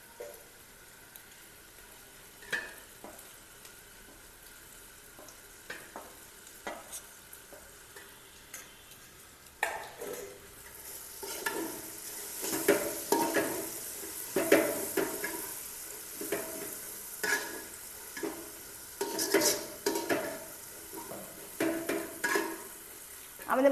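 Spice masala with turmeric stirred and fried in a pot for a country chicken dish, a soft sizzle with scraping spoon strokes that grows louder and busier partway through, close and alone.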